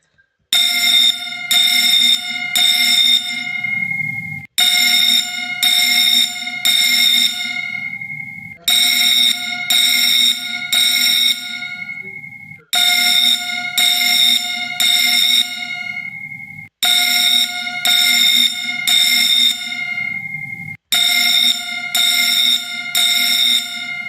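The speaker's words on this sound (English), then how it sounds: "They do work, it's just the bells are pretty loud." Gas station alarm bells ring loudly during a system test, in six long bursts of rapid metallic clanging separated by brief gaps, with no talk over them.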